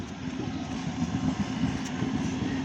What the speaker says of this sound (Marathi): वसईहून आलेले लोकल आहे.